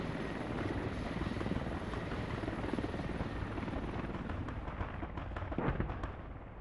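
Steady helicopter rotor drone from the military video game Yeho, a dense continuous whir holding level throughout, with faint sharp cracks near the end, no voices.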